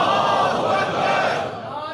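A large crowd at a majlis roars a sustained chanted response, dense and loud, filling the whole two seconds before easing slightly at the end.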